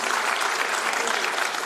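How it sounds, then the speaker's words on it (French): Dense audience applause during a ministerial public address, a continuous wash of many hands clapping at steady loudness, with a voice faintly mixed in underneath. "Je vous demande de les applaudir."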